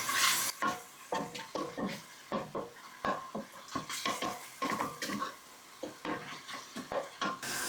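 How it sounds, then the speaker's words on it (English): Dry herbs toasting in a dry pan, with a steady run of scraping stir strokes and light crackle at close range; no one talks. "I want to toast our dry herbs"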